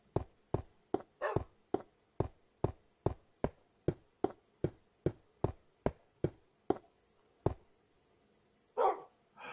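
Puppies in the Minecraft video game give a fast, regular string of sharp, close barks for about seven seconds, then fall quiet before a short whimpering yip near the end.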